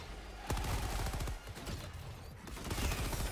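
Mortar fire in Helldivers 2, rapid bursts of loud, close explosive blasts with a dense rumbling barrage that rises and falls over a few seconds.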